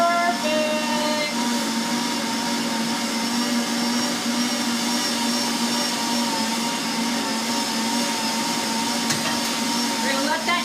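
A stand mixer kneads crescent roll dough, its steady motor whir running loud and constant for the whole stretch, with faint talk beneath it.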